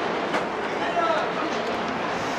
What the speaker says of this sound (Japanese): では電車来ました、乗っていきたいと思います。